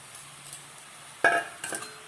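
Mashed potato and spices for pav bhaji are stirred in a pan, a faint quiet scrape followed by two sharp utensil clinks against the pan.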